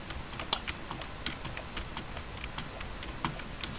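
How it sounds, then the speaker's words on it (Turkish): Hard presses on a computer keyboard space bar during a parkour game, a steady run of sharp clicking taps roughly every quarter second, close and alone. "Şu anda var ya boşluk tuşuna iyice basıyorum."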